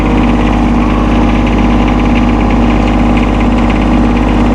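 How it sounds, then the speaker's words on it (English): A 2016 John Deere 2025R compact tractor runs steadily with its PTO engaged, a loud, close, constant diesel drone and vibration with no change in pace throughout. "This is your PTO engagement."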